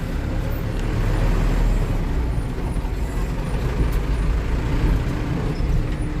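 Setia Usaha bus pulling away from Tawangmangu terminal, a loud rumbling diesel engine with road noise and hissing bursts of air brakes, continuous and close throughout.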